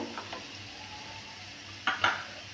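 Garlic cloves drop into a hot pan with onions, giving two short bright sizzling bursts near the end over a faint, quiet background.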